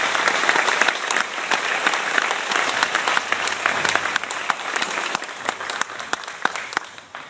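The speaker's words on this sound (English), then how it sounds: "Let's give him a round of applause." At a 2013 Fletcher Academy graduation ceremony, the audience gives a sustained round of applause with many overlapping claps and some sharper ones standing out, fading slightly at the end.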